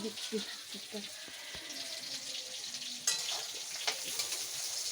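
Chicken cooking in a pan on a gas stove gives a steady, close frying sizzle with soft stirring scrapes and a few clinks, continuous throughout.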